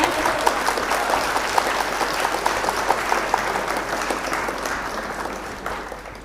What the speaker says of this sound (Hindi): मैं चाहती हूँ एक बार आप लोग जोरदार तालियां बजा करके इनका सम्मान कर दें।